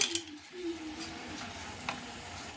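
Masala spices dry-roasting in a pan give off a faint, low sizzle, with light stirring taps and scrapes scattered through it and no one talking.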